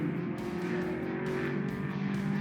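Several vintage racing cars, including a BMW, roar past at close range, engines loud and sustained with a steady droning pitch throughout.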